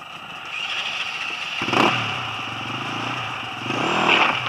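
A motorcycle engine revs near a rider practising among overturned washing machines, a steady mid-pitched running note that swells in two throttle blips, moderately loud and with no talking.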